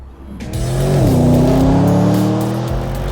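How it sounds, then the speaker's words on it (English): A Porsche Panamera Turbo S on Porsche's Leipzig racetrack roars close and loud as it brakes into a chicane, engine pitch dropping then holding steady, with a short squeal of tyres and no talk. "I'm sitting in the brand new Porsche Panamera Turbo S, braking into the first chicane on the start-finish straight"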